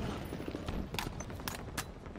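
Rapid gunfire from a 4v4 match in the video game Halo Infinite, a few sharp quick shots popping in the second half over a low, busy game backdrop, moderately faint and without clear talk.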